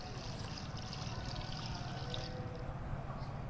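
Water is poured from a jug into a pot of carrots being cooked for a sweet carrot preserve, a soft continuous splashing trickle at low level throughout.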